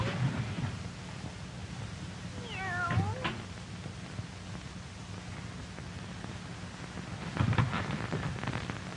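A black cat gives a single rising, wavering meow in the middle of a soft constant hiss, with a few dull bumps before and after it.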